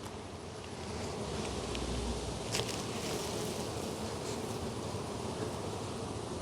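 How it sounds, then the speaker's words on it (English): Honeybees buzz in the bottom of a hive during a beginner's inspection of a requeened colony, a dense, steady close-up drone of many bees with soft rustling. "Another reason I don't like to go down in the bottom is lots of bees down here"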